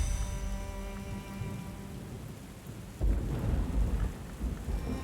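Steady rain falls through a thunderstorm in the Book of Hours video game, with a low rolling rumble of thunder surging louder about halfway in and continuing under the downpour.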